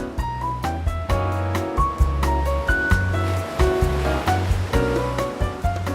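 Ocean waves in an animated film surge in a broad wash beneath a loud, rhythmic orchestral score with a pulsing bass line.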